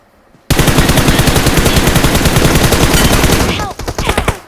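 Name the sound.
gunfire in the video game PUBG Mobile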